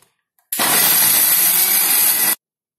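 Kitchen mixer grinder pulverizing ginger and garlic with a little water into a smooth paste, a loud steady whirring grind that starts abruptly, runs for about two seconds alone, then cuts off.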